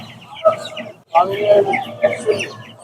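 Chickens clucking and squawking at a crowded duck and chicken poultry market in Tongi, Gazipur, with several close, loud, overlapping bursts of clucks and a brief pause, and people talking among the birds.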